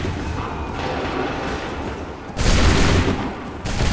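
A volley of musket fire from a line of soldiers in Assassin's Creed 3 Remastered: two loud, broad crackling bursts of massed shots, the first sustained and the second following after a brief lull, over rumbling battlefield noise.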